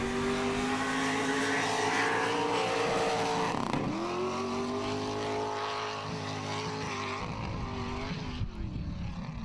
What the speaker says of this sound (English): It's good to hear Trevor leave the line.